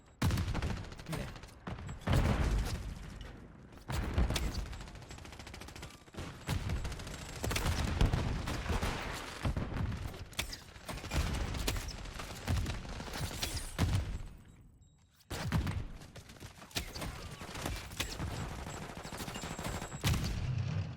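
Gunfire in Call of Duty: Modern Warfare III, loud rapid bursts of automatic weapon fire and blasts that come in repeated volleys with short pauses between them.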